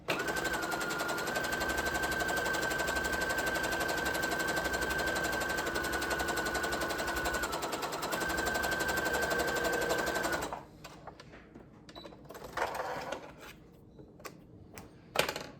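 A domestic sewing machine runs steadily, stitching rows of gathering stitches along the raw bottom edge of a garment sleeve, with a fast even whir for about ten seconds, a brief pause partway, then it stops and leaves quiet handling noises.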